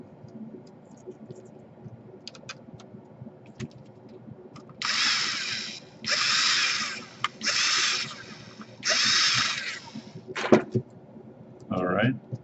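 Bursts from an impact wrench driving the heatsink screws on a Samsung 300E laptop, four or five short buzzing runs about a second each with brief pauses, close by, with quieter clicks and handling in between.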